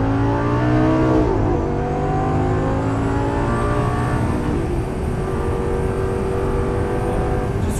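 A Lamborghini Gallardo driven on a race track, its engine loud and close with a strong droning note that climbs and drops with gear changes, then settles into a steady high-speed roar.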